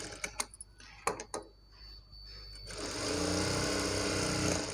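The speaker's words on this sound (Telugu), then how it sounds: "ఇప్పుడు మనము దీన్ని ఒక స్టిచ్ అయితే వేసేసుకుందామండి." A sewing machine stitches a bow for a baby frock; a few handling clicks come first, then the motor starts and runs in a steady, close mechanical whir to the end.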